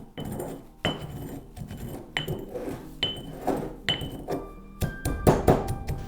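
Burnt, porous bones crushed by hand in a kitchen setting, giving repeated sharp crunching and clinking impacts roughly every second, close and fairly loud, with brittle crackles and rattles between strikes and no talking.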